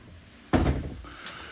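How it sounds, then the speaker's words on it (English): A single solid thud of a motorhome's shower cubicle door swinging shut, a short knock with a brief rattle after it, then quiet. "individual shower cubicle with hanging rail and easy to close door"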